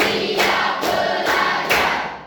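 A classroom of children claps together in a rhythm game, four crisp unison claps spaced evenly and loud, ringing briefly in the room before fading.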